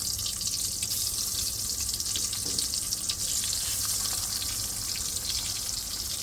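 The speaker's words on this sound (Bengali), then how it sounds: "এখন মাছের তেলের মধ্যেই ভাজতেছি" Food fries in fish oil in a pan, giving a dense, continuous hiss of sizzling oil that stays even and close from start to finish, with no voices.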